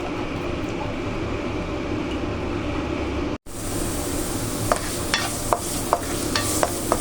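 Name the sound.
onions sautéing in a pan for tortang giniling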